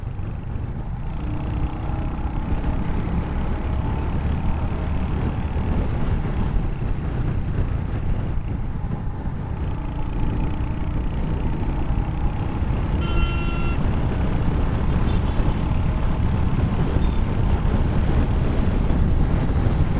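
A Royal Enfield Hunter 350 motorcycle cruises at about 80 km/h, heard as a loud, constant rush of wind buffeting the microphone with a steady engine drone buried beneath it. A brief high beep-like tone cuts through partway.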